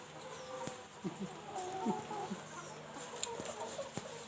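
Phan Khai chickens in a henhouse give soft, scattered clucks at close range over a steady low farmyard hum, with a few sharper calls breaking through.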